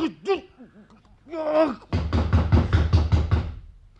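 Firm knocks on a door in a Turkish radio drama, a quick run of about eight loud, evenly spaced raps close by, coming right after a short burst of voices.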